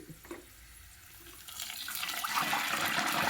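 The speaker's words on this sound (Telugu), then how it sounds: "ఇలా సాల్ట్ వాటర్ పోయగానే ఆయిల్ కొంచెం చిట్టినట్టుగా అవుతుంది" Hot oil for frying chips starts to hiss and crackle after a quick splash of salt water, the sizzling building louder over a few seconds, with no voices.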